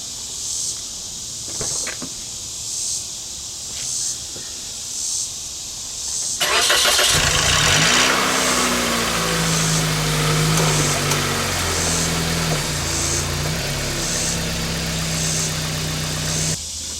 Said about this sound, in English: Now I'm going to start it up and roll it back so I change the oil, and hopefully it idles really well